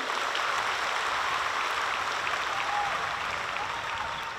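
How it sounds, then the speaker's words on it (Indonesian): A university crowd claps together in a broad, even wash of many hands at a new-student gathering, sustained and fairly loud throughout with no voices standing out. "tepuk tangan untuk kita semua."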